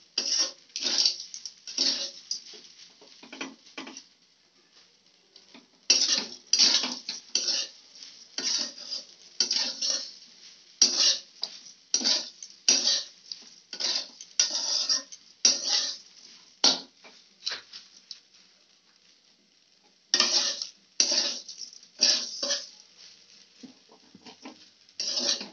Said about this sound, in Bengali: চিনি গলতে একটু টাইম লাগবে, ততক্ষণ নাড়তে হবে।